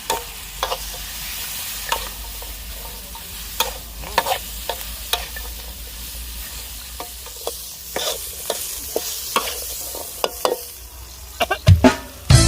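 Spicy snake stir-fried in a wok with holy basil, sweet peppers, pea eggplants and green peppercorns: a steady sizzle broken by repeated scraping spatula strokes and clanks, growing busier and louder toward the end.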